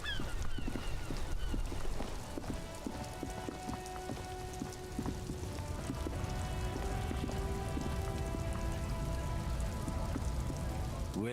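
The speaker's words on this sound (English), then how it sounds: "oh, it's raining." Steady rain pattering on surfaces in the video game Disco Elysium, a continuous close hiss of drops with faint tonal music-like lines running underneath.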